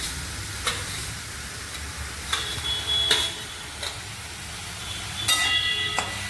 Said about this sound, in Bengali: এবার আমি 4-5 মিনিট এটা একটুখানি ভেজে দেবো।